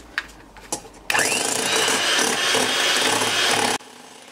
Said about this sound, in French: Quand je vais battre, donc j'utilise un batteur euh, électrique.